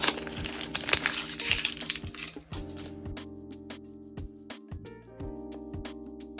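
A MacBook Air M1's 30 W USB-C power adapter being unboxed, with the protective film peeled off. Close crackling, crinkling plastic comes at the start, then sparse sharp ticks and clicks over a steady low tonal music bed.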